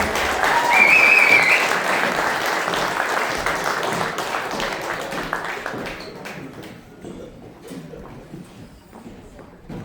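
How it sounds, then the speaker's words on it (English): A crowd of attendees claps loudly for political candidates at a Rhode Island League anniversary gathering, the dense applause peaking early and then tapering gradually over about ten seconds, with a brief cheer near the start. "if everyone here in the crowd would go ahead and give them all a round of applause"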